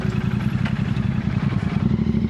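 Motorcycle engines from a group ride heading out from Gurgaon to Faridabad, a loud, close, steady throbbing rumble with a pulsing beat, no voices.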